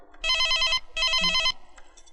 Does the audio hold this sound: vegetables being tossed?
no